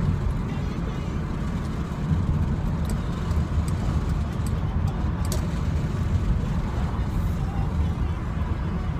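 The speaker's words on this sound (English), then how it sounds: "Truck." A truck passing on an outdoor road on a warm sunny day, a steady broad rumble of traffic and wind across the whole stretch, moderately loud and close.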